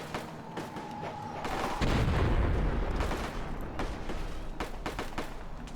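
Gunfire in a Roblox World War 1 battle game: a dense rumble of shots with repeated sharp cracks and booms, growing heavier partway through and continuing without pause.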